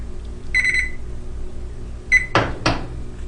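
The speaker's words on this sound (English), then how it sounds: "we're going to turn on the timer" A digital kitchen timer is switched on to count sixty minutes while coir substrate is pasteurized, giving two short electronic beeps, then two louder clicks or clunks nearby over a low steady hum.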